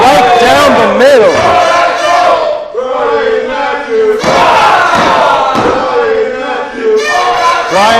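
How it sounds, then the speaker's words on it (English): A split wrestling crowd at an ECPW independent show yells and chants loudly and continuously, dense rowdy voices rising and falling in waves throughout. "the crowd is split right down the middle."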